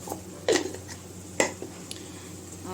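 A spatula scrapes and clinks against a pan as paneer and peas masala is stirred and fried, two sharp metallic knocks among softer scraping over a steady low kitchen hum.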